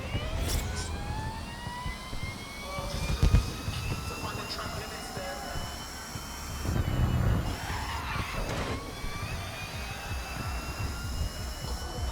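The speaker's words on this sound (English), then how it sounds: "Again, this is the electric car." An electric race car in Grid Legends whines along with a rising and falling electric motor tone, with tyre skids and impacts in the mix, steady and close, while someone talks over it.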